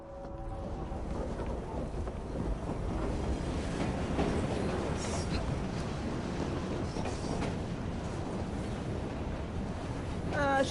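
A train carriage clatters steadily in Assassin's Creed Syndicate, a continuous rumbling clickety-clack of wheels on rails that is loud and close throughout, with no talking.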